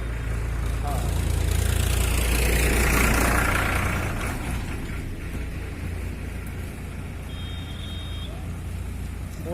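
A motorcycle engine idles at a roadside police vehicle checkpoint, a steady low rumble running throughout, swelling slightly in the first few seconds, with traffic and street noise around it.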